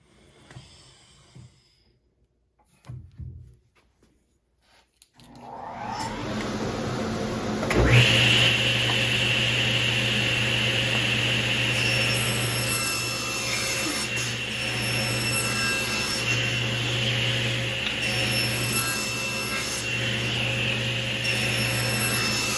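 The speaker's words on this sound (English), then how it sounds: "we'll go ahead and do that at the table saw" Table saw spinning up and cutting a wooden board, a few quiet knocks first, then a steady loud whining drone with a bite as the blade enters the wood and a sustained cutting hum.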